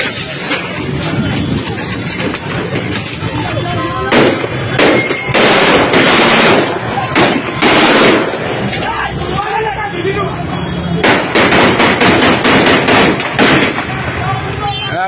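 Loud gunfire at an outdoor scene in Gujrat, heard as repeated sharp bursts and clustered volleys over constant crowd noise and shouting voices.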